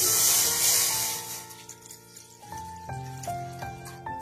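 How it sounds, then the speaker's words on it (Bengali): Water poured into a bowl for boiling sago, a brief rushing pour that fades into tonal ringing and a few drips, close and quiet with no talking. "একটা বাটি বসিয়ে দিয়েছি, তার মধ্যে দিয়ে দিলাম জল"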